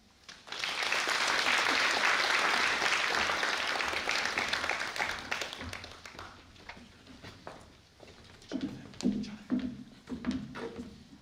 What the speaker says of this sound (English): Please give all the Room 34 graduates a round of applause.